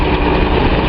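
A Datsun 280Z's L28 inline-six engine with a misfire runs loud and close in a brief, steady mechanical drone with a rough, uneven pulse.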